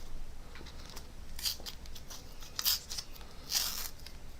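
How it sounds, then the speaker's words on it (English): Playing cards are ripped in half by hand, a few short dry tearing rasps spaced about a second apart, close and quiet with no voices. "I want you to tear your cards in half"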